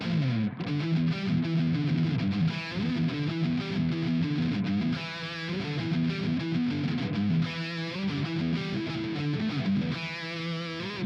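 A loud, distorted electric guitar plays a busy metal pentatonic riff with some open strings, steady rhythmic chugging and bright picked notes, continuous and with no voices.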